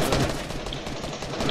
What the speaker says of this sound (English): You shot me for 50.